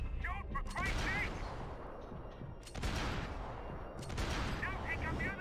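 Loud volleys of gunfire and heavy impacts echo through a Max Payne 3 firefight, arriving in bursts with short lulls, while a voice shouts over the shooting.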